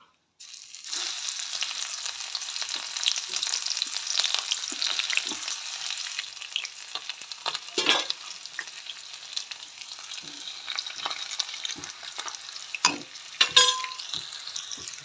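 Lightly crushed garlic cloves fry in hot oil until reddish, a steady close crackling sizzle running throughout with a few sharp pops and spatters near the end.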